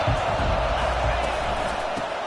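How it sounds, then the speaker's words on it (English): Steady roar of a football stadium crowd filling the space continuously, loud and sustained, with a broadcast commentator's voice running over it. "This crowd trying to make life miserable for this offense."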